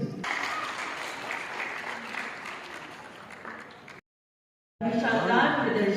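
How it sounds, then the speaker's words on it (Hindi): An audience at a women's achievement event applauds in dense, steady clapping that breaks off into silence, then a voice speaks over renewed crowd sound. "जोरदार तालियों के साथ हम सब स्वागत करते हैं"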